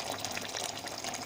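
Boiling water is poured into a pot of onion and chicken, making a steady, faint, rushing splash that stays unbroken throughout the short moment.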